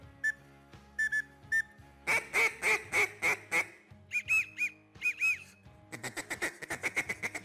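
Duck calls and whistles are blown together to mimic mixed duck species, producing bursts of rapid quacking, honking notes and warbling whistle trills in quick rhythmic series, loud and close with short pauses between sequences.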